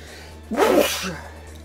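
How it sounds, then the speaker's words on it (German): A single sudden sneeze from a character in Final Fantasy VIII, short and close, rising sharply and fading within about half a second over a faint steady hum. "Oh, Niesen."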